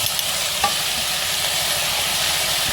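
Onions fry in a pan for bansi rava vegetable upma, giving a steady, loud hissing sizzle with a faint scrape or two near the start and no voices.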